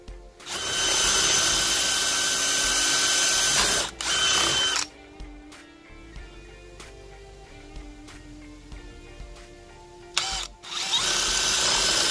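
A power driver running a lag screw: loud sustained motor whine in two bursts, with quieter ratcheting and clicking between them, close up in a workshop.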